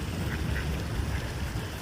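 Ducks quack faintly somewhere off in the distance, set against a steady outdoor wash of noise during a walk as rain begins.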